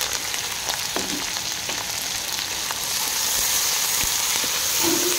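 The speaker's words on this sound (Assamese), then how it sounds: "অলপ তেল গৰম কৰি ভোট জলকীয়া, নহৰু ভাজি লৈছোঁ।" Whole spices, bhut jolokia chilies and garlic fry in a little hot oil, a loud, close, continuous crackling sizzle that swells slightly toward the end, with no voices.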